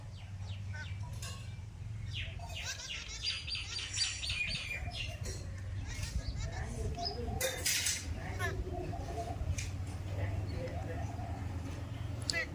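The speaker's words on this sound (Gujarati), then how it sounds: "મસ્ત મજાના પક્ષી જો રોટલી ખાવા આવી જાય" A flock of birds gathers to eat scattered roti with a squirrel nearby, giving scattered chirps, tweets and soft coos over a low outdoor hum, fairly faint and continuous.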